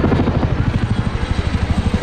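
A Chinook helicopter flies a display at the Southport Airshow, its twin rotors giving a steady, loud rhythmic thumping blade slap, fairly close and alone with no voices.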